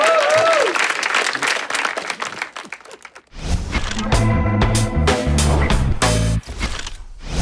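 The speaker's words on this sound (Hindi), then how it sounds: "इनके लिए तालियां बजा दो।" Loud audience applause from a studio crowd at a Valentine's Day comedy show, a dense wash of clapping that fades and then gives way to a burst of music.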